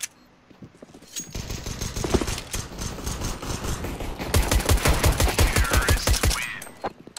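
Rapid bursts of video game gunfire crackle for several seconds, growing denser and louder toward the end with fast automatic volleys.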